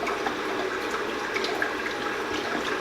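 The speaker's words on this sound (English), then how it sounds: "now we're going to go ahead and fill the machine" Distilled water pouring slowly into an H2Life BG v2.0 water machine, a steady, continuous trickling rush held at an even level throughout, with no talking.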